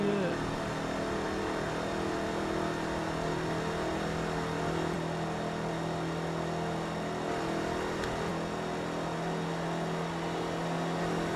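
A McLaren race car engine in Forza Motorsport 3 hums at a steady high pitch on the long Circuit de la Sarthe, a continuous droning whine at moderate level with a voice speaking faintly over it.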